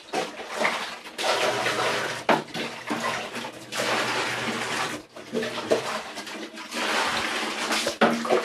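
Water running from a tap to fill containers during laundry at home: a loud, steady rushing splash that pauses briefly a couple of times before resuming.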